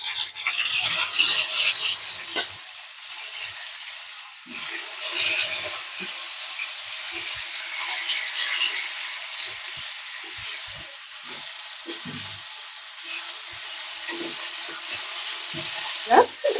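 Pomfret fish fry in hot mustard oil in a wok, a loud continuous sizzle and hiss with scattered spattering crackles, close up and without talk.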